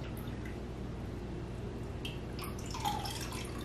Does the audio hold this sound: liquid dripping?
yes